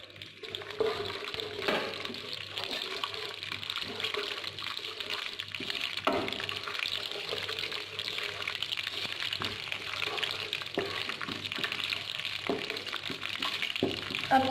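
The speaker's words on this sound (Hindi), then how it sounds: "ये जीरे का तड़का लगाएंगे।" Cumin seeds crackle and sizzle in hot oil in a wok, the same oil just used for frying fish, a steady bright hiss with scattered pops throughout.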